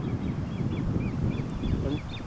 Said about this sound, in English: And it has a little one, a young one, in a zebra livery, making the noise you're hearing.